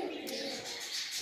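Java sparrows calling while building a nest, with soft, continuous cooing and chirping heard faintly at close range.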